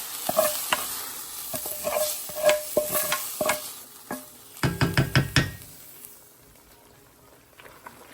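Wilted spinach sizzles in a hot pan while a utensil stirs and knocks against it in irregular bursts, scraping loudest midway before fading to a soft fry.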